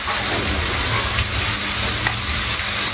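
Ginger and garlic paste sizzling in hot oil for a shrimp malai curry, a dense, steady crackling hiss with faint scrapes from stirring, close and loud for three seconds and free of speech.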